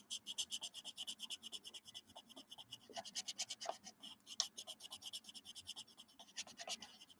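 Rapid, rhythmic scratching strokes of a Tombow marker coloring on paper, close and steady, with brief pauses between bursts.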